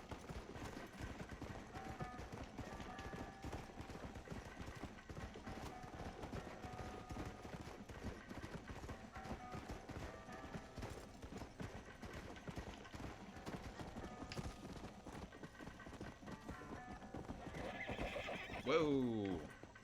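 Steady clip-clop of horse hooves in Red Dead Redemption runs under continuous game noise and talk, ending in a loud, rising neigh near the close.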